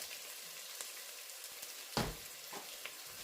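Garlic and onions sizzle softly in a pan with a steady low crackle, broken by a few brief clinks and scrapes of stirring; no voices.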